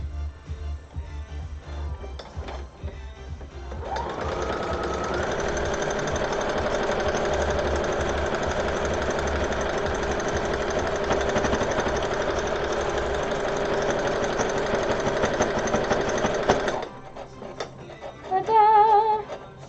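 A sewing machine runs steadily for about twelve seconds while stitching buttonholes, a dense, even mechanical whir with rapid needle rhythm, close and loud, stopping abruptly near the end before a brief louder clatter.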